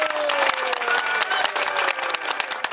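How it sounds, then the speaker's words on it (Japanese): A crowd applauds loudly and steadily at a cycling criterium award ceremony in Iwaki, Japan, dense clapping filling the whole stretch, with a faint tone sliding underneath. "トップ6の選手の皆さんに大きな拍手をよろしくお願いします"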